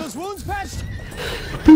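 A horse in the video game Battlefield 1 gives a loud, close whinny in rising and falling squeals. It is followed by a brief burst of other game noise.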